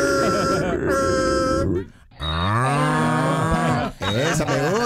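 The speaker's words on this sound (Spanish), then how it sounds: "Esa me gusta, la vaquita." A cow mooing in several long, loud, drawn-out lowing calls that rise and fall, separated by short pauses.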